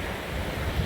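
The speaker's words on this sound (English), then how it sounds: "The waves are really not bad." Ocean waves wash onto a beach in a continuous low roar, with wind buffeting the microphone, heard briefly with no voices.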